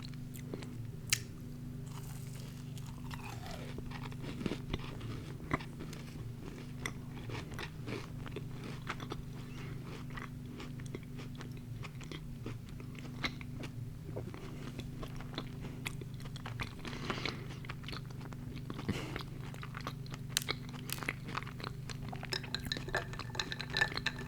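Soft, close biting and chewing of mini Crumbl cookies dipped in almond milk, steady wet mastication with occasional crunches and light clinks of a glass, continuous and intimate with no talking.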